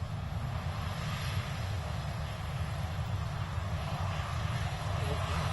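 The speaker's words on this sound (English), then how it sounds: "watching my brother taxi down to take off on his inaugural takeoff from Greenville Spartanburg Airport" A DC-8 jet airliner taxis for takeoff at Greenville Spartanburg Airport in the rain, giving a steady, loud, low engine roar with broadband hiss that holds constant throughout, with no talk over it.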